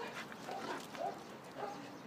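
Small dogs and puppies yip and whimper in a few short, fairly faint bursts over steady background noise, with no talking.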